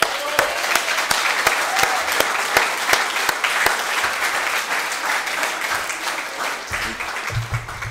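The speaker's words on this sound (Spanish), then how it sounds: "Grupo Oriente quisiera regalarle un fuerte aplauso en agradecimiento por venir a enriquecer esta fiesta espiritual" A crowd at a 25th-anniversary spiritual celebration of an AA group breaks into strong, sustained applause, with sharp individual claps standing out in a dense wash, and a voice emerging briefly at the end.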